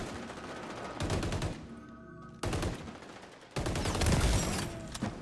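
Gunfire in XDefiant comes in three loud, sustained automatic bursts from close range, separated by brief quieter gaps with faint game ambience.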